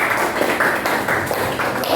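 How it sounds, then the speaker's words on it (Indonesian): Applause in a classroom, a group of students clapping together in a dense, steady patter of many hands, fairly close and sustained throughout with no talking over it. "Oke, tepuk tangan."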